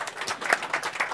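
Conference audience applauding a live demonstration at a tech talk, a brief burst of dense, steady clapping from many hands throughout.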